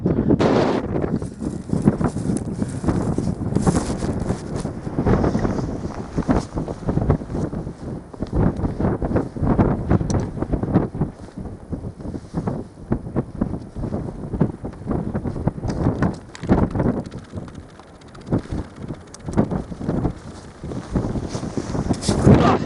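Strong wind buffeting a microphone outdoors on the hilltop of Dunkery Beacon during an antenna pole raising, loud gusty rumbling throughout with voices faintly underneath.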